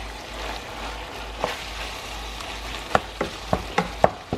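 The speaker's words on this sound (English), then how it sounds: "So the first thing I do is I'm browning the ground beef" Two pounds of salted and peppered ground beef browning in a pan, a steady crackling sizzle with a run of sharp scraping stir clicks toward the end; no voices.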